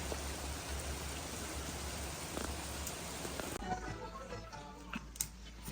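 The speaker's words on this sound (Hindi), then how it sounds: "हमारे पास तेज बारिश होने लग गई है" Heavy rain pours down steadily in a dense, constant hiss that fills the whole stretch, with no voices over it.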